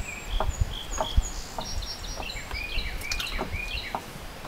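Outdoor birdsong with chirps and short calls scattered over a few seconds, along with some soft thumps and faint background noise nearby.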